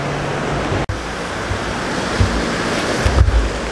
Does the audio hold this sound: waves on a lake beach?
yes